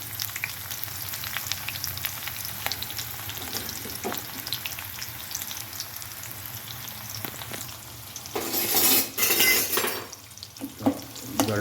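Onions fry in a pan of tempering oil for an egg gravy, a close, steady sizzle with stirring, growing louder and more agitated near the end as a ladle turns them.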